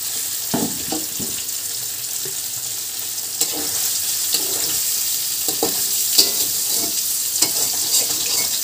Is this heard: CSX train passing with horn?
no